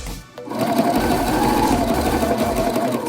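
A sewing machine stitches darts on a trouser mock-up. After a brief pause it starts and runs at a steady, even whirring hum, loud and close throughout.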